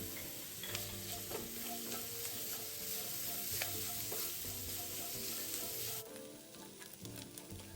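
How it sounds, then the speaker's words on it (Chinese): Minced dried shrimp and garlic stir-fried in a pan, a close sizzling hiss with rhythmic spatula scrapes and clinks, easing slightly near the end. "加入备好的蒜末20克，一起拌炒"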